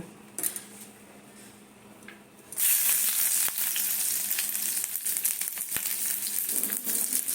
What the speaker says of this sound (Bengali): এইবারে আমি রসুনটা আগে দেব